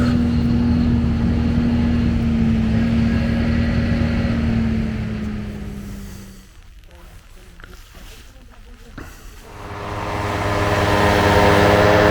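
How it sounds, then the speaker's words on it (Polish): A heavy tractor engine drones steadily, loud and close, fades for a few seconds, then swells back. A voice talks briefly over it. "Trochę nam traktor hałasuje."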